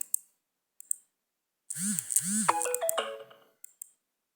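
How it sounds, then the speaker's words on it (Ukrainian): Telegram notifications sound on an old phone, short chiming tones and clicks, with one longer burst of rising and falling electronic melody in the middle, the tones repeating several times with no speech. "Мене просто на старому телефоні приходить постійно в телеграм."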